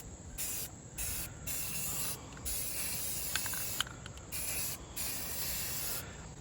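Sandable filler primer sprayed from an aerosol can onto a 3D print in light passes, a loud steady hiss in several long bursts separated by short pauses, close up and alone.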